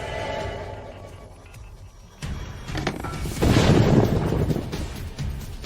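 Storm thunder rolls in the Sargasso storm zone, a deep rumbling that swells into a heavy crash partway through and keeps booming, fairly loud and close.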